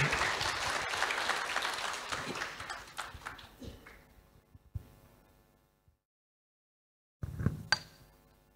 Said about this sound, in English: let's give him a big round of applause, Dr. Andreas Darmayadi.